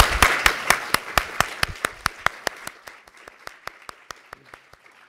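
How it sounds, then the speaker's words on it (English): A lecture audience applauds Hong Kong Chief Justice Geoffrey Ma, beginning as dense clapping and thinning into a few slower, separate claps that fade out over about five seconds. "let's give a round of applause to Mr."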